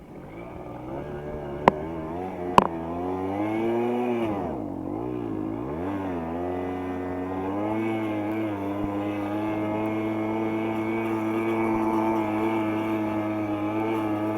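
A Simson S51 two-stroke moped engine revs on a snowy slope, a close, steady buzzing drone that dips and swells through a few throttle blips, then holds a high, continuous whine, with two sharp clicks early on.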